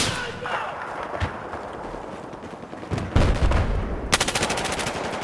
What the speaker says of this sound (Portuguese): Os caras estão atirando em mim, mano.